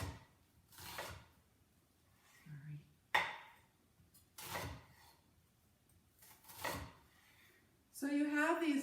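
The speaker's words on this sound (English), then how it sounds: "I'm going to lay it flat down like this, and then you just make slices" A knife chops through a halved onion laid flat on a cutting board, each cut landing as a crisp thud. The slicing repeats at a slow, uneven pace while a voice talks between the cuts.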